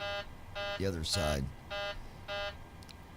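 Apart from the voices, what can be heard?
aircraft throttle warning beeping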